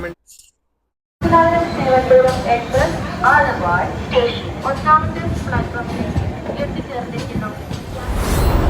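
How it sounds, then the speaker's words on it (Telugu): A train departing Aluva station in Kerala at night rumbles and clatters along steadily, with people talking loudly over it throughout. "అలా నైట్ 11:30కి మన ట్రైన్ స్టార్ట్ అయింది"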